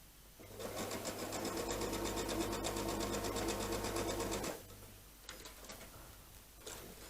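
A sewing machine runs steadily, stitching the seams of an anvil quilt block in a continuous whirring, ticking burst for about four seconds, then stops, leaving faint handling clicks and small stitches near the mic.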